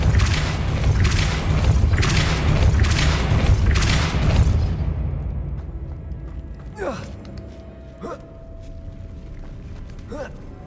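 A Depulso repelling spell striking in the Hogwarts Legacy video game, a run of heavy booming thuds that fades into quieter ambience with a few sharp whooshing chirps.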